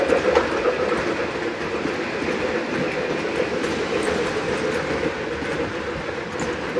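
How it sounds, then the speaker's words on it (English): Steady rumbling model train engine sound with a continuous mechanical hum and faint rhythmic clatter, fairly loud and constant throughout. "make some really neat sounds for their engines"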